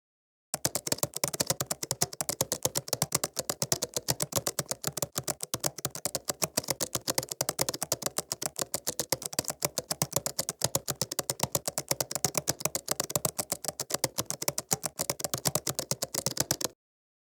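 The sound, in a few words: typing DAX formula on a computer keyboard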